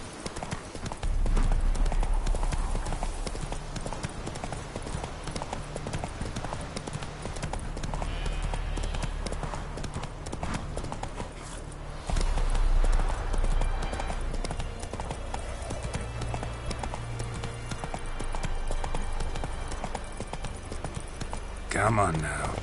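Horse hooves clip-clop in a steady walking rhythm through a Witcher 3 game scene, loud and close, with a rider's voice and other talk over them and a game soundtrack underneath.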